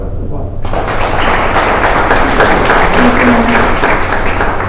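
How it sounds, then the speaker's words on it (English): Audience applause breaks out at a regional river restoration summit in Ohio, a dense, steady wash of clapping that starts abruptly and holds at full strength throughout, with a few nearby thuds mixed in. "let's give her a round of applause"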